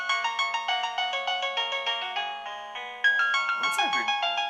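A cheap Chinese wireless doorbell plays an opera tune as a bright electronic melody of rapid repeated tones, fairly close and clear, with a brief voice cutting in near the end.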